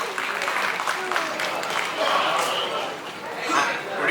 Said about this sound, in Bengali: সুতীর্থর জন্য একটা জোরে হাততালি প্লিজ